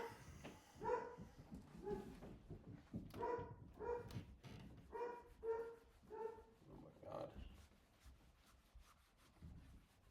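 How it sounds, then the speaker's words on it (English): A dog barks upstairs in a series of muffled, faint barks, roughly eight or nine in an uneven rhythm, heard through the building with some rubbing noise alongside. "Dog upstairs."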